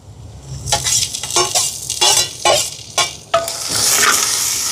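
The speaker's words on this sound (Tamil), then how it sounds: "இப்போ இது கொஞ்சம் பச்சை வாசம் போய் வதங்கட்டும்" Ginger-garlic paste and other ingredients sautéing in a pan for prawn biryani, a loud close sizzle punctuated by a series of sharp spatula scrapes and knocks, swelling into a stronger hiss toward the end, with no talk.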